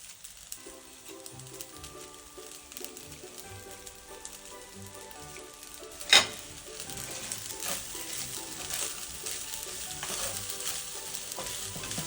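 Green pepper and spring onions sizzle and crackle in a pan over low heat for Nigerian fried rice while being stirred, with a sharp clank partway through and the frying growing slightly louder afterward.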